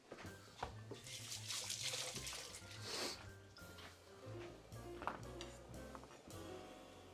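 Tap water runs steadily over fresh herbs in a sink for a quick rinse, a continuous close splashing rush with brief louder spatters as the bunch is moved under the stream.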